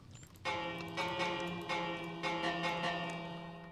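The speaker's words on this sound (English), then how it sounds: "It's just a bell that does nothing but ring." A peculiar bell from the Minecraft Create mod ringing repeatedly, five or so bright metallic strikes at a steady pace, each tone sustaining and overlapping the next, close and alone.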